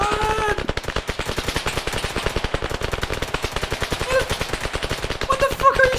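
Rapid automatic gunfire from a combat video game, continuous bursts of machine-gun fire filling the whole stretch, loud and close, with shouted voices breaking through now and then.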